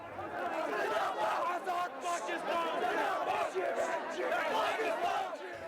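Agitated crowd at a mass political gathering in Kashmir erupts into chaos during a fist fight, a dense roar of many shouting voices and overlapping yells, loud and continuous throughout.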